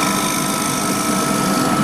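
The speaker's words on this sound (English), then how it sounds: "cut downhill gently with the scraper, just the same as with the gouge" A wood lathe spins a lamp base for an Eaton table lamp while a scraper cuts it, a steady loud hiss and whir of the motor and shaving with no talk.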